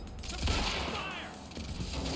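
Suppressing fire in the action game Quantum Break: a dense, continuous wash of overlapping gunshots and rattling reports, steady and fairly loud throughout with no clear gaps.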